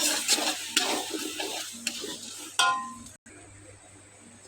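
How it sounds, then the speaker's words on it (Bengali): Five or six dried chillies and crushed garlic fry in a pan for tamarind pickle, a close sizzle with stirring scrapes and a few sharp utensil clinks, fading to a quieter hiss near the end. "শুকনো ঝাল 5-6টা, রসুন থেতো, একসঙ্গে একটু ভাজে নেব।"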